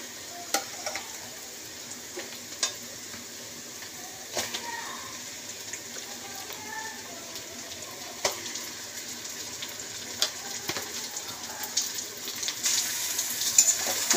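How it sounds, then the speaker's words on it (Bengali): Chopped onions fry in a pan ahead of meat being added, giving a steady close-up sizzle with scattered sharp clicks from stirring, and no voices. "তো আর একটু ভাজা হবে পেঁয়াজটা"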